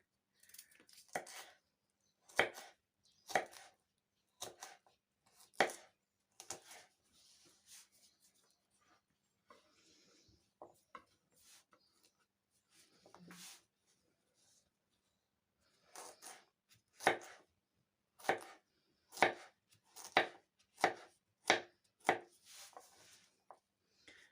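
A knife chopping cucumbers on a board for okroshka, a cold summer soup, crisp close knocks in quick bursts separated by short quiet pauses, no talking over it.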